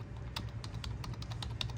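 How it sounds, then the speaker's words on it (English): Quick taps on a computer keyboard on an HP PC, about eight sharp clicks spaced irregularly over a steady low hum, close and moderately loud with no voices. "press any key on the keyboard quickly"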